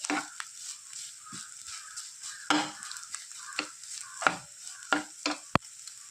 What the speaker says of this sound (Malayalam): നന്നായിട്ട് ഡ്രൈ ആയി വരത്തക്ക ഇതുവരെ നമ്മൾ ഇളക്കി കൊടുക്കണം. ഇതിപ്പോൾ നന്നായിട്ട് ഡ്രൈ ആയി വരുന്നുണ്ട്. മീഡിയം ഫ്ലെയിമിലിട്ട് വേണം ഇളക്കി കൊടുക്കാൻ.